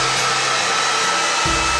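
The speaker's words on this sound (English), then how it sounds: "Now I can use a hair dryer to blow dry this to dry it quickly." A hair dryer blows steadily to dry wet acrylic paint on a canvas painting of aspen trees, a continuous close airy whoosh with a brief shift in motor tone near the end.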